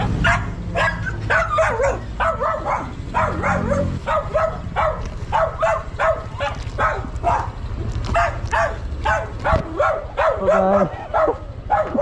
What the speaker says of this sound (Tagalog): Tapang ng aso nila.